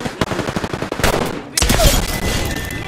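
Rapid bursts of automatic gunfire in the Apex Legends video game, loud and close, with a brief pause before another dense volley and some game effects.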